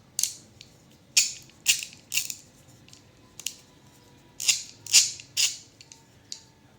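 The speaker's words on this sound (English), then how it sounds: "This is a ratcheting screwdriver." A Tekton 2841 ratcheting screwdriver, lockable in both directions, gives close, crisp bursts of ratchet clicking, about eight short rattling spurts separated by brief pauses.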